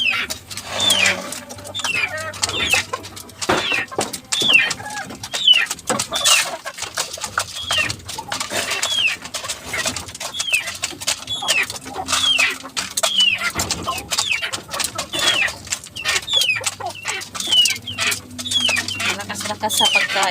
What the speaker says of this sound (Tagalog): Lakas sa pagkain yung mga manok guys.